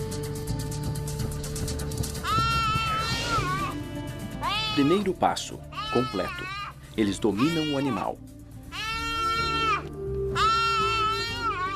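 Bleating, wailing cries of a prey animal caught and held down by a pair of young cheetahs on open land, rising in several strained harmonic bursts between pauses, loud and close, with a narrator talking over parts of it.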